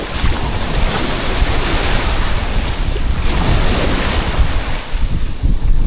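Continuous roar of ocean waves and surf with heavy wind buffeting the microphone, heard from a small boat, loud and steady throughout with slow surges.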